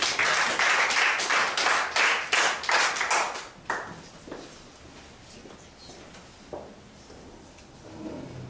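Church congregation at a mission-trip gathering claps in a short burst of applause that fades out after a few seconds, leaving scattered faint taps and room noise.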